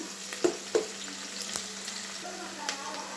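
Onions frying in oil for bagara rice, with a continuous soft sizzle broken by a few sharp stirring clacks and scrapes near the start, steady and close with no talk.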